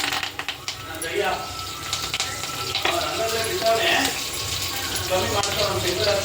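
Curry leaves dropped into hot oil in a home kitchen give a steady close frying sizzle with crackling hiss throughout, under some background voice.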